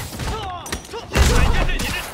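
Burst of gunfire in Marvel's Spider-Man Remastered, a cluster of sharp shots and thuds that swells after a moment, mixed with shouting voices and other game sounds.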